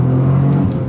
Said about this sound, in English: And this is the auto rev match